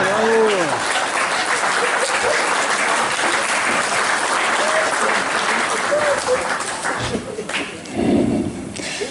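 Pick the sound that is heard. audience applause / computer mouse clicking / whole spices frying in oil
audience applause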